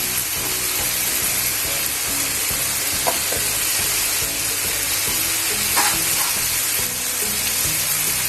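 Fresh grated coconut stirred into a pan of cooking kartoli (spiny gourd) and val beans, giving a steady, loud sizzle throughout with occasional soft scraping of the spoon.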